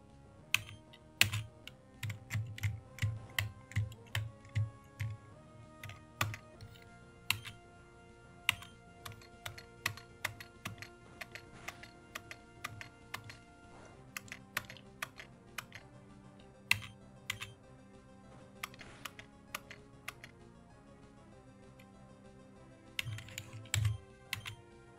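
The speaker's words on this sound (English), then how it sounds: "you're just gonna have to get some relaxing keyboard sounds" Computer keyboard typing during quiet Pokemon Emerald gameplay: irregular bursts of soft, close key clicks and taps, with pauses and faint game tones underneath.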